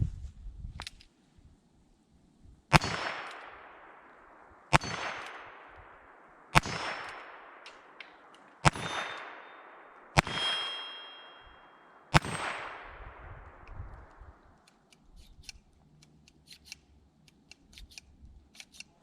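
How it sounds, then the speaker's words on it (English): Six sharp .22lr shots from a Ruger Wrangler, each followed by a long ringing clang from a steel target, spaced a couple of seconds apart and fading between shots, with no one talking. "Let's take our first shots with the Wrangler"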